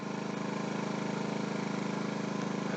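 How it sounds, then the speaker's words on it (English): A Ryobi 4000-watt inverter generator hums in a steady, fairly quiet engine drone from about 20 feet away, with its exhaust pointed toward the listener. "This is approximately 20 feet from the generator, exhaust port pointing at us."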